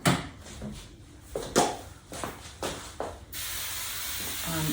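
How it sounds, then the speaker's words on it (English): Window cleaner sprayed onto a glass window during cleanup after glass painting, heard as several short, close hissing spray bursts in quick succession, followed by a steadier soft hiss. "I'm gonna just go over one more time with the window cleaner."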